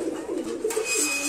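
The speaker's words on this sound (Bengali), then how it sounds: "দেশি কবুতর দেখাবো।" Native Bangladeshi pigeons at a farm loft give soft, low, rolling coos, close and continuous over a faint background hiss.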